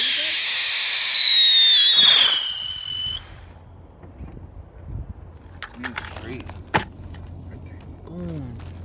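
Fireworks burst in the 2020 celebrations, opening with a long loud whistling screech and crackling, then scattered sharp pops and bangs further off, with faint voices and chirps underneath.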